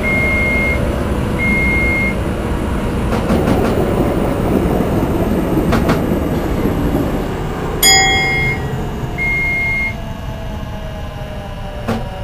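A Tokyu Toyoko Line express train in a train simulator game rumbles steadily along the track with a clattering roll, while short electronic beeps sound at intervals over it.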